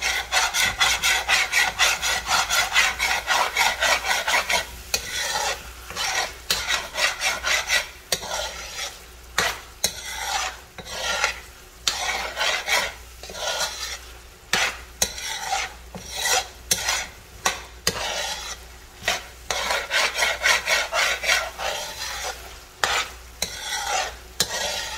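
Jamaican salt fish rundown stirred in a pot, long stretches of close scraping and rubbing strokes against the pot over a low simmering sizzle, the strokes coming in uneven repeated bursts.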